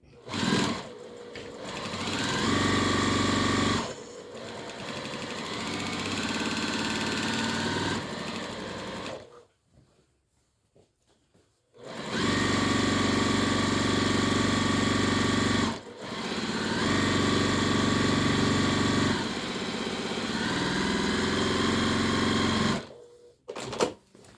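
A sewing machine stitches the bottom line of an apron pocket close to the edge, running loud and steady in long bursts with a short quiet pause in the middle.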